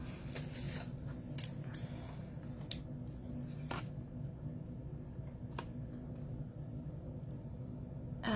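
Watercolor paper being cut, a series of close, quiet rasping snips and scrapes spread irregularly across several seconds.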